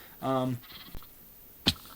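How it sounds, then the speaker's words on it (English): Sheep bleat in a video game's sheep pen: one wavering, harmonic bleat of about a third of a second, then a soft click and a brief sharp blip against quiet ambience. "it's a nice little sheep pen"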